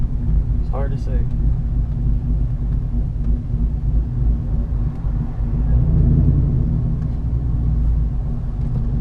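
A Trailblazer SS engine with a Stage 3 cam idles nearby in a loud, lumpy, rumbling rhythm that pulses unevenly throughout, with a brief faint high squeal early on.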